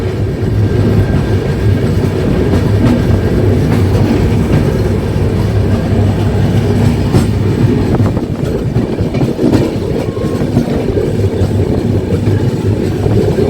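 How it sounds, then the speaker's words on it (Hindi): The Sampoorna Kranti Express departs Mathura station with a loud, continuous rail rumble and a rhythmic clickety-clack of wheels over track joints, heard close and steady throughout. "मथुरा स्टेशन को डिपार्ट करते हुए अपनी संपूर्ण क्रांति एक्सप्रेस"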